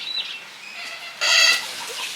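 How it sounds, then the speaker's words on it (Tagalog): A brief, bright chicken call rises sharply in the middle, with quieter chirpy bird sounds before and after it. "Kung saan napupunta yung manok eh."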